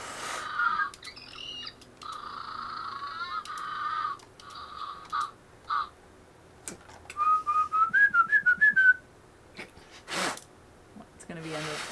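A toy whistle is blown in a series of short, shrill, warbling bursts, some rapid and repeated, with voices talking around them.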